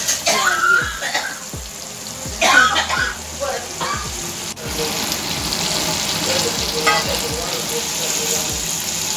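Pomfret and bangda (mackerel) fish frying in a pan, a continuous close sizzle that steadies after a few clatters and scrapes as the pieces are turned, with voices briefly speaking early on.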